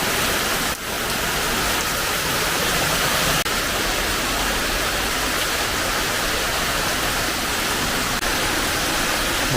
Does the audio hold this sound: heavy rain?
yes